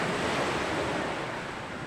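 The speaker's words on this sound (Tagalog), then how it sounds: "nandito tayo sa baybaying dagat" Sea waves on a beach where people fish make a steady roaring wash, mixed with wind noise on the microphone, loud and continuous with no voices.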